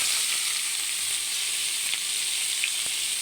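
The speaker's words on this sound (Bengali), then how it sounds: "ওই তেলে আমি এখন পেঁয়াজ বাটা দিয়ে দিব।" Ground onion paste hits hot oil left from frying katla fish, giving a steady, bright sizzle and hiss close by, with a faint stir or tap now and then and no talking.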